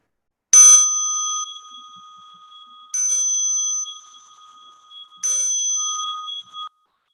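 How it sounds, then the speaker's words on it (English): Three clear meditation bell strikes spaced a few seconds apart, each ringing bright and sustained before fading, with no voices. "as you listen to the bell"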